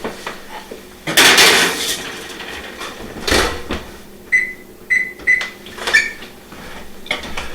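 Shrimp appetizers being put into a warmed oven, a loud clatter of the tray and the oven door, then scattered electronic beeps of the oven controls in a quiet kitchen.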